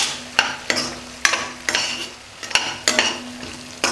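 Chili powder being stirred into a gravy in a pan, with a run of spoon scrapes against the pan's base over a low, steady sizzle and no talk.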